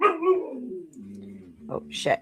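A pet dog indoors during a home livestream yips and barks briefly and up close, and a voice cuts in over the dog.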